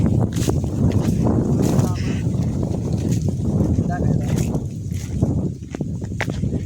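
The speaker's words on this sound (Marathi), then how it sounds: "हवा आली तर हे पिंपळाचं झाड किती भारी आवाज देत आहे" Strong, steady wind gusts through a peepal tree in an open farm field, a loud continuous roar and rustle with rough buffeting against the microphone.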